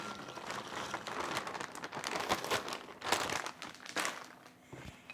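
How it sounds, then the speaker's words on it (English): Raw almonds poured into a bowl, a quiet rattling patter of many small nuts falling and clicking together in irregular bursts. "So we pour almonds in a bowl."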